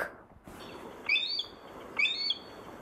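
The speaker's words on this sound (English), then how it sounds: "Hawk." A hawk gives two short, high-pitched screeching calls about a second apart, clear and fairly close against a quiet background.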